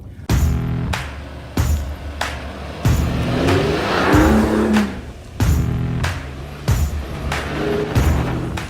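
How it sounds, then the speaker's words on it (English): A 2019 Mercedes-Benz GLE's engine pulls loudly and repeatedly, each rise in pitch cut off by a gear change before the next climb, close up and continuous. "the car just goes steady at 6 kph, and I can concentrate on the road, on the curves, on the stones"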